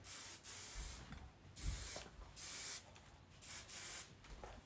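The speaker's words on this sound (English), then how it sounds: "Working spray all over." Several short hissing bursts of aerosol hair working spray, one after another with brief pauses between them, close and clear.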